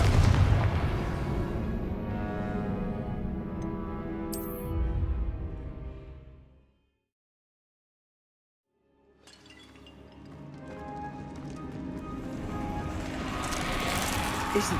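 Spell explosions from the Confringo curse in the video game Hogwarts Legacy boom loudly amid busy combat effects, followed by a sudden near-silent gap, then the crackling, rumbling battle noise builds back up.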